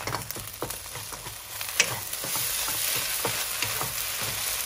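Singapore carrot cake (chai tow kway) with eggs sizzling steadily in a hot pan while being broken into pieces, with repeated scraping and chopping taps of a spatula over the continuous close frying hiss.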